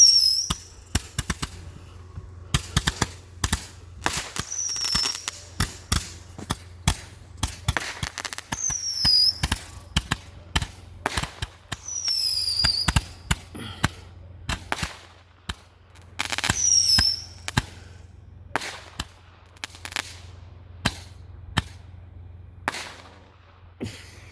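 Fireworks and firecrackers going off at night on July 3, a long run of sharp pops and bangs at varied distances, some whistling rockets rising, with a steady low hum underneath and no talk.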